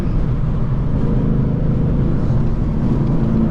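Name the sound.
Mustang GT driving, wind noise in the cabin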